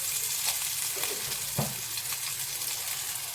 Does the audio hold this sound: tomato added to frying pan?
yes